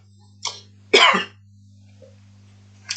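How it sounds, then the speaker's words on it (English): A person coughs once, loudly and up close, with a faint throat sound just before it and another short one at the end, over a steady low electrical hum. "I had to cough."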